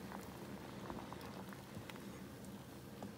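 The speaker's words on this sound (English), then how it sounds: "Okay, so it's started boiling. I just kind of lowered the heat." Split pea soup boils gently in a pot on lowered heat, a faint, steady bubbling and soft popping that continues evenly throughout with no talk.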